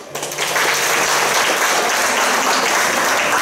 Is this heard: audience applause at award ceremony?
yes